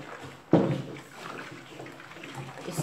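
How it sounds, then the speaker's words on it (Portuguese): Boiling water is poured into a bucket of homemade liquid bleach soap mixture made with cooking oil, starting with a sharp splash and continuing as a steady, moderate watery rush with no speech. "Vou colocar mais 1 litro. Posso colocar até 4 litros de água fervendo"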